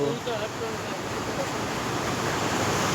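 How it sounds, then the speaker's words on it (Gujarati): A steady, broad rush of rainwater falling, loud and continuous like a cascade, with no pauses. "અહીંયા પાણી પડે છે"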